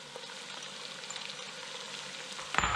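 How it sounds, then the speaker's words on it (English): Diced carrot sizzling in a pan with softened onions and minced garlic, a soft continuous frying hiss that swells into a louder crackle near the end as more goes in. "The onions have done their thing with the garlic. I'm going to add some diced carrot"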